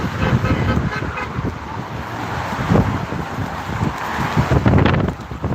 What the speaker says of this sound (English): It's just really windy and kind of loud up here.